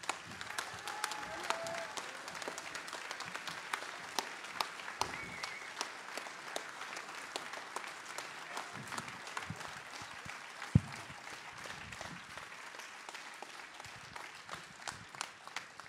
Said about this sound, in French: je vous demande d'applaudir bien fort Adrien Quatennens